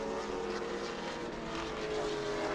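George Gorham's number 10 race car roars past at a short track, its engine a loud, steady, high-pitched drone that fills the whole stretch with no break or talk.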